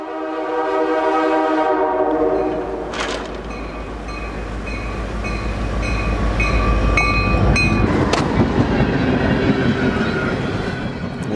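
A locomotive fitted with a front snow plow passes through fresh snow on the tracks, its horn blaring in loud sustained blasts over the heavy rushing roar of the train and flung snow, building as it goes by.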